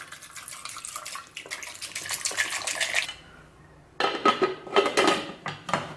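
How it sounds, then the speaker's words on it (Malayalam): Water pours into a pot of potatoes for boiling in a kitchen, two bursts of splashing, gurgling flow with metallic pot sounds, close and fairly loud, separated by a brief quiet pause and no talking. "ഇതിലേക്ക് ഇനി ആവശ്യത്തിന് വെള്ളം ഒഴിച്ചു കൊടുക്കാം."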